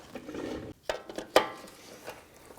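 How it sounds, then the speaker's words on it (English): A ratchet works the nut off a rusted front CV axle on a 2004-2008 Acura TL, giving a few sharp, close metallic clicks and clacks with quiet gaps between them. "we're just gonna snip off what we have there, and we're just gonna drive that nut off"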